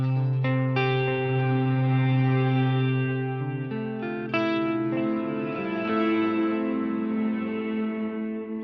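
Distorted electric guitar chords ring through a Line 6 Helix non-linear reverb set to 500 ms pre-delay, the dry attack heard clearly before a shimmering, echoing tail swells in behind, with a few restruck chords and no talking.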